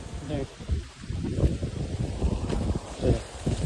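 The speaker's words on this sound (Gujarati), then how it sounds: "જો પવન ચાલુ થઈ ગયા" Strong wind blows in gusts over a village millet field, buffeting the microphone with rumbling bursts that rise and fall, and voices are faintly heard beneath.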